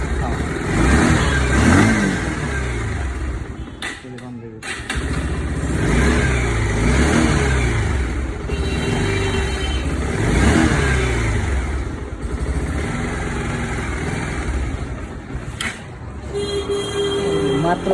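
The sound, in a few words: motor vehicle engine started and revved with exhaust pipe open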